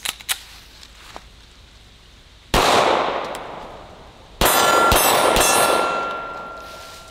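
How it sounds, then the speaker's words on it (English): Two loud, sharp 9mm pistol shots from a Canik TP9 SFX crack outdoors at close range, each followed by a long ringing decay, fired into a bulletproof pillow. "we're shooting this one out of the Canik"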